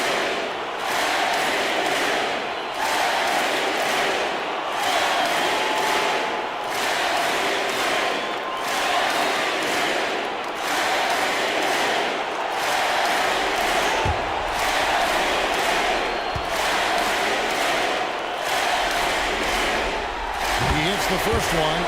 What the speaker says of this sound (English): The applause is deafening.